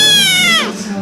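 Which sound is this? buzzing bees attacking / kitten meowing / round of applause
kitten meowing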